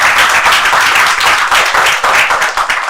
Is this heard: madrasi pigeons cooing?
no